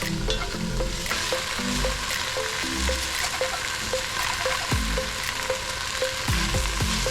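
Kale sizzles steadily in a hot frying pan, a loud continuous crackle and hiss broken by scraping stirring strokes, with no voices.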